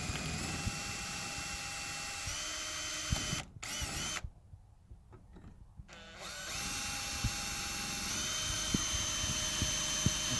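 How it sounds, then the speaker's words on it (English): A power drill bores pilot holes for a DIY greenhouse build, a sustained whining motor tone that cuts out briefly, pauses, then spins up again and runs steadily, close and alone. "drill some pilot holes."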